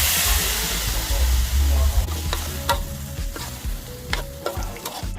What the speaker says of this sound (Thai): ใส่น้ำมันพืชนิดนึงเพื่อที่จะคั่วให้เครื่องหอมครับ คั่วจนให้เกือบไหม้ครับ แล้วใส่ปลาไหลลงไปครับ